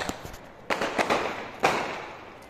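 Several sharp New Year firecracker bangs burst at irregular intervals at night, fairly distant, each followed by a short echoing decay.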